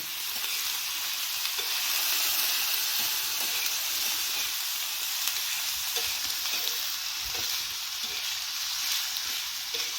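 Onions sautéing in a hot pan for a rustic village-style onion chutney, a loud continuous sizzle and steamy hiss with occasional faint stirring scrapes, close by and without speech.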